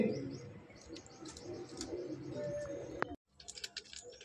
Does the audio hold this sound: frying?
no